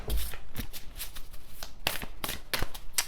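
Tarot cards shuffled by hand in quick riffling bursts, several crisp flicks and slaps close by at a soft level, with brief pauses between the bursts.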